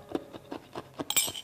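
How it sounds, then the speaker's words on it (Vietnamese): Crunching ice chunks in the mouth, a series of five or six close, crisp bites spaced roughly evenly, ending in a brighter gritty crackle, with no talking. "giờ mình nhai miếng đá nè"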